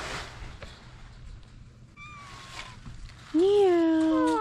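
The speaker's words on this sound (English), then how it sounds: "Cute Snickers meow." Soft talking gives way to a single loud, close cat meow that rises and falls near the end.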